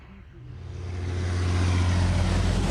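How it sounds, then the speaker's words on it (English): Heavy trucks passing outside, a low rumbling engine drone that swells steadily louder over a few seconds as a vehicle approaches, with no speech on top. "Damn trucks!"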